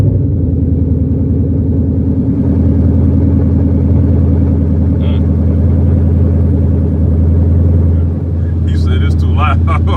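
A Ford Mustang fresh from the muffler shop rumbles with a loud, deep, steady exhaust note close by, droning without a break from start to finish.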